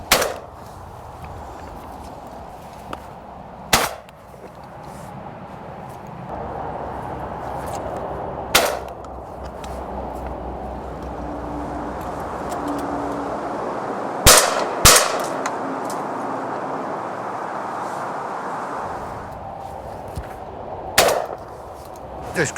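Shotgun shots fired at pigeons in open fields near a motorway, single and double blasts ringing out at irregular intervals over steady outdoor rumble, with some talk in between.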